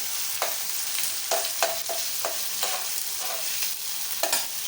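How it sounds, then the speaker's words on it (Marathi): Tomato and cauliflower frying in a pan with a constant, loud hiss of sizzling oil. Spoon stirring scrapes cut in every half second or so. No voices. "नंतर टोमॅटो फ्लावर हे सगळं मस्त असं फ्राय करायचं"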